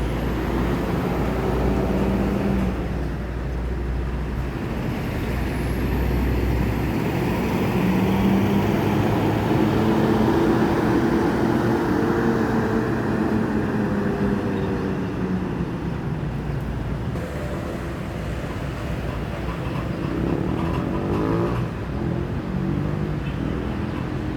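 A Honda Prima bus pulls in from West Sumatra, its engine rumbling steadily and loudly nearby over a continuous roadside traffic drone.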